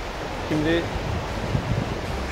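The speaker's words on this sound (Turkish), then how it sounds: "şuradan bir dere akıyor" A stream flows near a guesthouse in Borjomi, Georgia, a constant broadband rush of water mixed with wind, under a brief spoken word.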